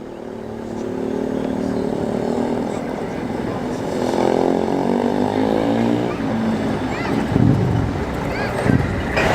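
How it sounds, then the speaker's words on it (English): An old ERF lorry rumbles past at a classic truck run in Cheshire, a steady loud engine drone with rising and falling whine, wind buffeting the microphone throughout. "Got an old ERF coming in now."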